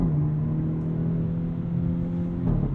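2023 Hyundai Elantra N with a DCT gearbox accelerating out of a corner, a steady rising engine drone heard from inside the cabin with a brief shift blip near the end.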